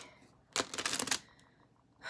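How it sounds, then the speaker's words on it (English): A tarot deck is shuffled, giving a fast, crisp riffle of card flutter lasting about half a second, close and fairly quiet, then a brief tap. "Let me just shuffle again."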